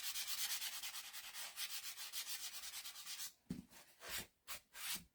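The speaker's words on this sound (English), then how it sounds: "I like to wipe my sandpaper off in case I have any residual color on there" Sandpaper rubbed briskly back and forth on a wooden porch-hanger craft, a fast steady rasping rhythm that breaks into a few slower, separate strokes near the end.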